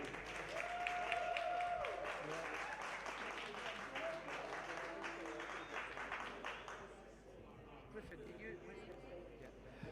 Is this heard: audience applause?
yes